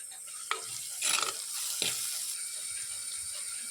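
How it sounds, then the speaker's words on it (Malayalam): Coconut oil with fenugreek, ginger, garlic and a bit of onion is stirred in a pan for fish curry, giving a soft steady sizzle broken by a few sharp scrapes and clinks of the spoon, close up and without talk. "വെളിച്ചെണ്ണ ഒഴിച്ച് കൊടുക്കുക, ഉലുവ, ഇഞ്ചി, വെളുത്തുള്ളി, ചെറിയൊരു കഷ്ണം സവാളയും കൂടിയിട്ട് നന്നായി ഒന്ന് ഇളക്കി കൊടുക്കാം"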